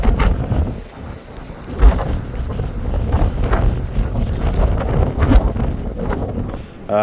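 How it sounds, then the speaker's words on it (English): Strong gusty wind buffeting the microphone on the South Wales coast at Witches Point during autumn fishing, a continuous loud roar with heavier blasts rising and falling throughout, no speech. "I'll do some filming on my phone of just how windy it is"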